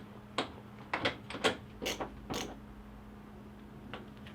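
A screw is driven by hand to mount a Yale YRD220 touchscreen deadbolt on a door, heard as a series of short close creaking turns with brief gaps, then quiet.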